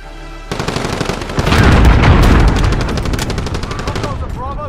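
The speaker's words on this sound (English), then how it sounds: "Enemy cruise missile incoming." A loud, close cruise missile blast during a Call of Duty Modern Warfare Domination match: a sharp hit followed by a heavy rumbling roar that decays over a few seconds, mixed with rapid gunfire.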